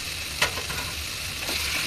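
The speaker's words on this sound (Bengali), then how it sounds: "দেখেন এখন আমি এটাকে কষাচ্ছি।" Duck curry being sautéed and stirred in a pan makes a brief, steady sizzle with one sharp scrape of the utensil.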